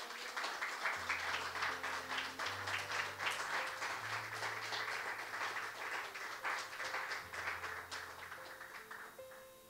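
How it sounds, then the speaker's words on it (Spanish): Sustained applause from a church congregation, dense clapping throughout with steady sustained tones from instruments underneath, tapering slightly at the end. "Démosle un fuerte aplauso al Señor."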